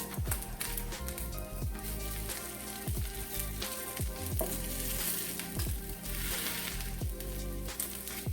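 Quinoa and kale burgers with mushrooms frying in a pan give a steady dense sizzle and crackle with scattered pops, close and continuous with no voices.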